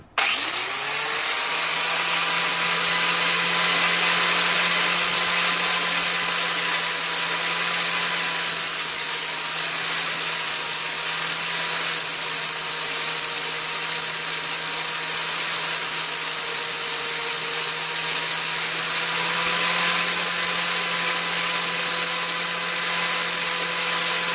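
A small grinding tool works steadily on the intake valve guide of a Briggs & Stratton flathead engine from a 13.5 hp Murray Select mower, giving a continuous, loud, high-pitched whine that holds nearly unchanged throughout with no talking.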